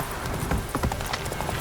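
Hooves of Roach the horse in The Witcher, a brief run of close, quick clip-clop steps over rain-like background noise.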